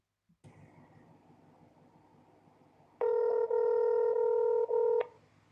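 WhatsApp call ringing tone: a steady electronic ringback tone sounds loudly for about two seconds after quiet room noise, with a brief dip partway through.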